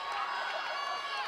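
A student section cheers loudly at a high school state final volleyball match, a dense, sustained roar of many young voices.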